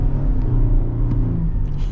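A steady, heavy twin-turbo V6 rumble from a 2025 Toyota Tundra TRD Rally pickup fills the whole stretch, loud and close, pulling hard under acceleration.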